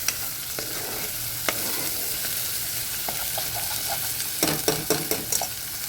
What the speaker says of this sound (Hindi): ये मसाले को बहुत अच्छे से भूनना है